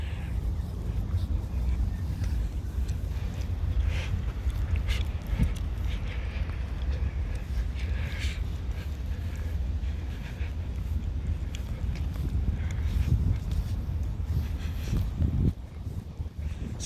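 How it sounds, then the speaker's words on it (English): Strong wind of about 35 km/h blows at a marina in Thunder Bay, Ontario, buffeting the microphone in a constant low roar, with a person talking intermittently. "I hope this wind isn't overwhelming"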